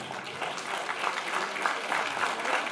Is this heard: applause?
yes